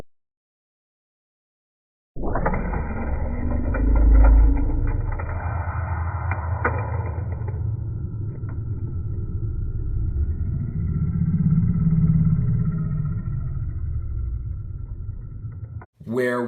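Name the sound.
Hot Wheels toy cars racing down drag track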